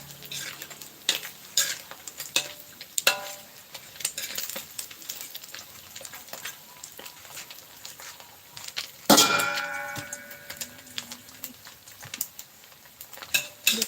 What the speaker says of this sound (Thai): มาทอดปลาค่ะ ปลาที่เราหมักกันไว้นั่นแหละ